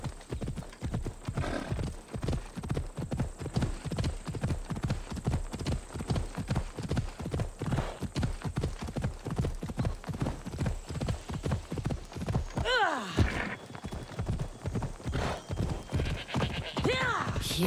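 Horse hooves beat a steady, fast clip-clop on the ground in the Assassin's Creed Odyssey video game. A loud neigh breaks in partway through, and the galloping keeps going without a break.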